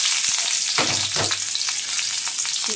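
Oil sizzles and fries steadily in a wok while potatoes and radish are prepared with small puti fish in a Bengali kitchen, with a few stirring scrapes and soft clatter heard close up and alone.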